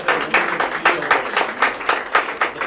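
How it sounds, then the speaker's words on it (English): A few people at an art gallery event clap in a slow, rhythmic pattern, roughly evenly spaced bursts, close and moderately loud, with no talk over them. "We please give a round of applause for"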